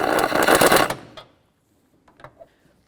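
A rattling impact or ratchet wrench buzzes for about a second, driving engine mount bolts home on a 2003-08 Toyota Matrix, followed by a few faint clicks and clanks of tools close by.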